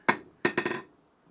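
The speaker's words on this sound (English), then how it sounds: "just give her a little tappy taps back at the face of the anvil" A hammer taps a forged steel wall hook of 3/8 round stock against an anvil face: one sharp ringing strike, then a quick cluster of four lighter taps, close and bright, fading out.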